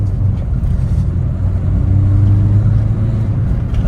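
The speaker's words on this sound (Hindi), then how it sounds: "तो अभी जैसे आपको ऑफ द लाइन परफॉर्मेंस दिखाता हूँ कि कैसे चलती है।" A Ford Figo diesel hatchback pulls away off the line, its low, loud engine drone building steadily and continuing without a break for a few seconds.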